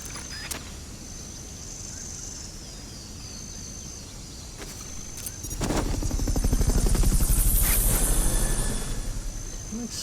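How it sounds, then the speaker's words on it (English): A Fulton recovery helicopter in Metal Gear Solid Peace Walker swells in midway, its rotor thump growing loud and close over a quiet game ambience before easing slightly. "Fulton recovery helicopter is complete."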